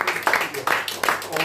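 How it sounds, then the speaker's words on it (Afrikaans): A church congregation in Porterville clapping hands together during a service, a dense wash of applause running throughout with a voice speaking over it. "Kan ons nie die Here hande klap gee vanmôre?"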